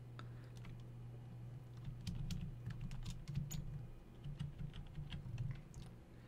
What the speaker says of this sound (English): Then I will type the class.